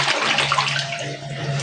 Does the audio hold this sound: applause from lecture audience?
no